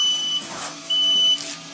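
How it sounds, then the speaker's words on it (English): Two sustained electronic beeps from a toy robot sound, each lasting under half a second, separated by a short gap, close and clear with no talking. "he blinks and beeps and all that kind of good stuff"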